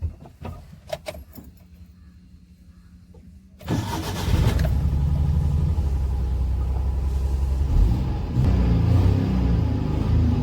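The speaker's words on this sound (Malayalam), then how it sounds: "നമ്മൾ വണ്ടിയുടെ സ്മൂത്ത്നെസ് കാണിക്കാൻ വേണ്ടി വണ്ടി എന്തായാലും സ്റ്റാർട്ട് ചെയ്യാണ്" A Maruti Suzuki SS80 car converted to MPFI fuel injection, close by: keys rattle, the starter cranks, and the engine catches at about 3.7 seconds, then settles into a steady, smooth low idle.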